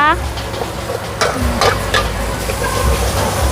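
Loud, steady sizzling of noodles with chicken being stir-fried in a wok at a Thai street food stall, with scraping and tossing clatter throughout over a constant background roar.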